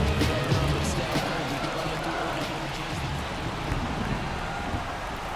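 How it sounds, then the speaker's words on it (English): Rain falling steadily during a baseball game in MLB The Show 24, a dense even hiss and patter throughout, moderately loud with faint voices in the background. "This rain is not letting up."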